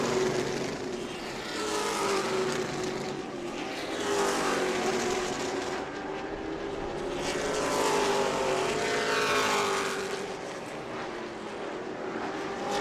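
Race cars roaring past on an oval track during a Hoosier series event at New Smyrna, a loud, sustained engine drone that swells and fades as the pack passes, with no talk over it.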